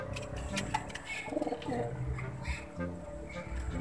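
Soft, low pigeon coos repeat close by amid a busy background with some faint talking.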